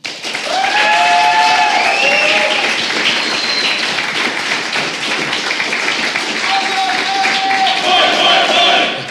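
A large esports crowd at a StarCraft 2 WCS Premier League match roars with cheers, shouts and applause, loud and sustained throughout.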